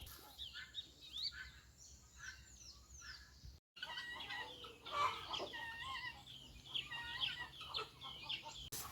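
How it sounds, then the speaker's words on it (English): Free-ranging chickens on a poultry farm cluck and chatter steadily outdoors, several birds calling at once with frequent short clucks and brief pauses, at moderate loudness. "The chicken have been outside. They've been foraging"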